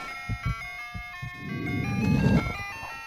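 An ice cream truck jingle from a video game plays as a bright repeating melody of chime-like tones, loud and steady, over a rising rumble of engine-like noise, with no talk.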